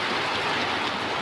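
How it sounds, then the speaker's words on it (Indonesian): Heavy rain pours down in a dense, continuous hiss, loud and close, with no voices, on a steep road at the Kedabuan climb where trucks and an L300 pickup struggle. "Si hujan lebat."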